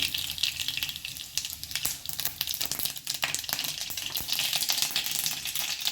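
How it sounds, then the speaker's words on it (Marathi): Continuous sizzling of mustard and cumin seeds in hot oil, peppered with sharp little crackles and pops, close and steady throughout with no voices. "त्यामध्ये आता आपण जिरे आणि मोहरीची फोडणी घालून घेणार आहोत"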